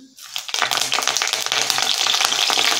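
Mustard seeds, cumin and curry leaves crackle and sizzle sharply in hot oil, a busy popping hiss that starts abruptly and stays loud and steady, with fast irregular spits and no voice.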